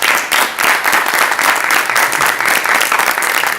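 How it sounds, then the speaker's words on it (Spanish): A festival audience applauds steadily to welcome a guest on stage at a comic convention in Rosario, with dense, loud clapping sustained throughout and no talk. "El aplauso para recibirlo."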